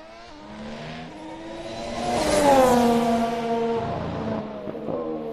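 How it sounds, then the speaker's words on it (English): Formula 1 cars roar past during testing at Barcelona, engines revving and rising in pitch as they approach, then fading with a lingering high whine. "You want to hear the cars."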